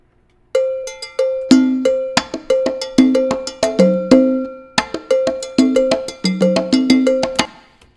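A cowbell rings out in a Latin symphony music mix alongside a low percussion tone, a steady run of bright, sharp hits with ringing decays over about seven seconds, close and prominent.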